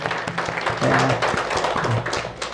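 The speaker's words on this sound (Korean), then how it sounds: "우리 같이 다 같이 박수 한번 하겠습니다" A church congregation claps together during a Sunday morning service, with a burst of moderate applause mixed with voices and a few whoops, close and lively.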